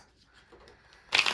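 Tarot cards shuffled in a short, loud papery burst at the very end, following a second of near-quiet room tone.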